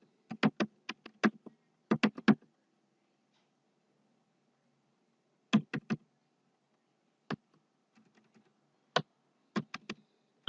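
Bursts of computer keyboard typing, quick clustered key taps separated by pauses, close and fairly quiet with no talking.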